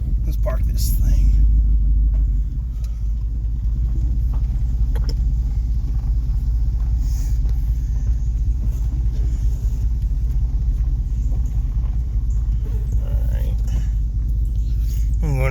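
A Chevrolet Suburban's engine rumbles loud and steady while it is parked, a continuous low drone with a slight dip early on.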